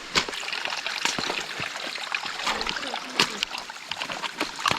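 Small hillside stream trickling down over rocks, a close, steady babble of running water with scattered splashes and drips throughout, no talking.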